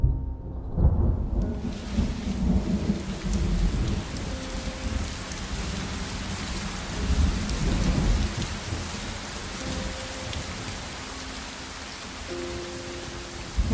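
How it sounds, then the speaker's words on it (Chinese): Rain starts and keeps falling in a steady, close patter, with low thunder rumbling under it and rising in a few swells. No one speaks. "又要下雨了。"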